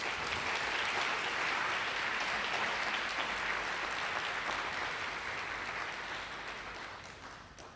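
An audience at a distinguished keynote lecture breaks into sustained, even applause that holds steady for several seconds and then gradually tapers off toward the end.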